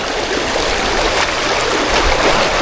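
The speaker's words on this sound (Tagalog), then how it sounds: "So dito sa bagsakan ng tubig." Water pouring over a drop in a river stream, a steady, full rushing wash close by with no break and no talk over it.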